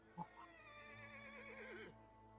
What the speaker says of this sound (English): That horse just like weirded me out so bad.